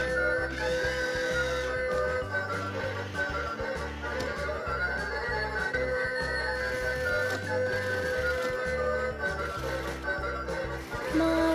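An electronic toy claw machine runs with a steady, busy electronic tune and mechanical whirring, playing continuously and close by for the whole stretch.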